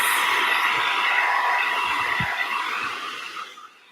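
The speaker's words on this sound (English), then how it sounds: "I'm going to just hit this with a hair dryer" Steady broadband blowing hiss, like a hair dryer running close by, holding constant before fading out near the end.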